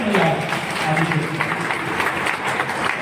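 A crowd at a poetry recital of heroic verse claps loudly in a broad sustained round, with a speaking voice running over the start.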